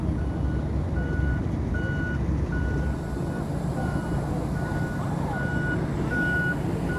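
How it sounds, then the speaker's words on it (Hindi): A snow removal vehicle in Antarctica sounds its reversing alarm, a steady series of evenly spaced single beeps repeating about twice a second over a constant low engine rumble and wind noise. "ये बर्फ हटाने वाली गाड़ी है।"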